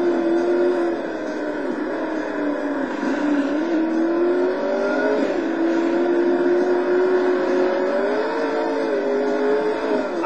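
A Lister Storm race car engine in the video game Total Immersion Racing, a loud, continuous high-revving whine that rises and falls with gear changes and throttle, alone without talk.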